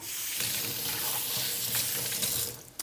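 Flour-dredged chicken pieces fry in hot oil in a skillet for chicken parmesan, giving a loud, steady, close sizzle that runs unbroken before easing off near the end.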